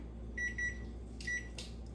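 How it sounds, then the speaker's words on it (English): A kitchen timer beeps in a few quick, faint electronic chirps over a low steady hum. "Timer says it's done."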